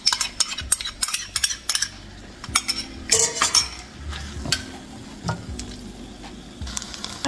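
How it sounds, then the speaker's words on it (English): Sauce goes into a hot pan of restaurant-style vegetable and shrimp lo mein noodles, which sizzle steadily while a utensil repeatedly scrapes and clinks against the pan. "I'm going to be pouring my sauce as well."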